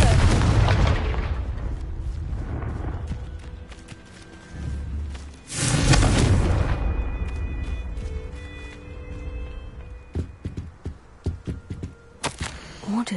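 Spell explosions from the Confringo fire curse in the Hogwarts Legacy video game: heavy booming bursts at the start and around the middle, followed by scattered sharp pops and crackles as the blasts die away, with no talking.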